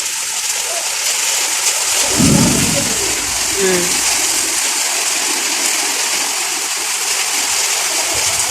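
Steady rain hiss in Bahrain fills the clip, with a brief louder splash or rush of water partway through and faint voices underneath.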